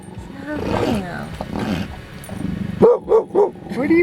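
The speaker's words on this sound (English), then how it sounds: "Sandra, that's not a real bear, sweetie." A toy bear lets out three short, loud electronic roars in quick succession at a campsite, following a stretch of talk from nearby people.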